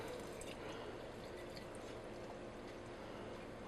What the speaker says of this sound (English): Now all we're going to do is top this off with water.